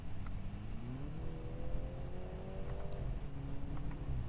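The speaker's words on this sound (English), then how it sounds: "All right, we're gonna floor it here pretty quick." A 2021 BMW 330i sport sedan under full throttle, engine note rising steadily in pitch through the gears as it accelerates, heard from inside the cabin over steady road and engine rumble.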